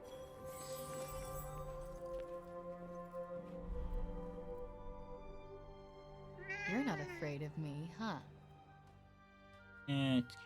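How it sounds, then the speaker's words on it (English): A cat meows several times in a rising, drawn-out way in the video game Forspoken, over a soft musical background. A person talks before the meows. "You can pet the cat."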